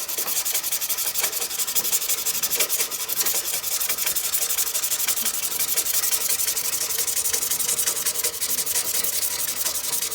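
Sandpaper rubbing back and forth across a cast pen blank on a lathe, a continuous dense hiss with fast, even strokes throughout, close and fairly loud, with no voices.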